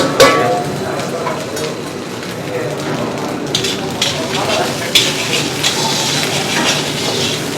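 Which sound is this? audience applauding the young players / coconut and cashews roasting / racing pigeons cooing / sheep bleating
coconut and cashews roasting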